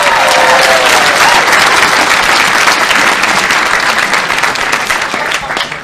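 Loud, dense applause from a comedy-magic show audience voting on a trick with a $100 bill, sustained and full before easing slightly toward the end.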